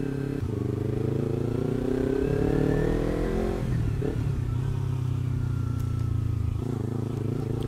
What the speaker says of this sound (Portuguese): Vamos só escutar o barulho da moto, o barulho da cidade.